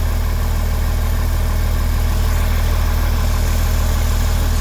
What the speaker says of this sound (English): It's the current audio level with no muffler.